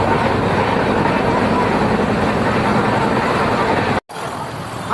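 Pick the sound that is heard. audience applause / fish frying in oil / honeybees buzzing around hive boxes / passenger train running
passenger train running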